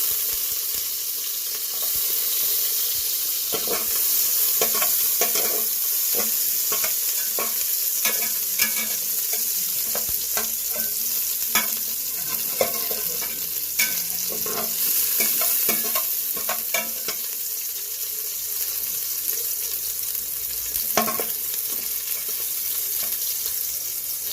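Onions sizzle in a hot pan while being stirred for Cebuano balbacua, a steady frying hiss broken by repeated scraping and clattering of the utensil against the pan, with no talk.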